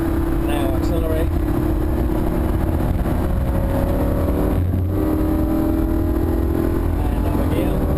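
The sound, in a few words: Lamborghini Huracan accelerating on a race track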